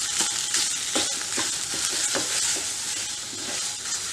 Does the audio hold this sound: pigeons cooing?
no